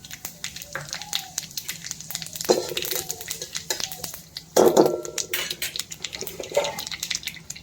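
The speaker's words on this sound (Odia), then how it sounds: "ତେଲ ତ ଗରମ ହେଇଗଲାଣି, ଫୁଟଣ ଆଉ ଶୁଖିଲା ଲଙ୍କା ଦେଇଦେବି।" Mustard-type tempering spices and dried red chillies hit hot oil in a kadai on a home stove, giving a steady crackling sizzle with sharper bursts of spattering as they go in.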